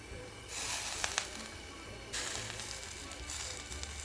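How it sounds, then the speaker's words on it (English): Sardines sizzle loudly with aromatics in a hot pan, a bright crackling hiss that surges in bursts with a few sharp pops, close by and without talk. "hear that sizzle"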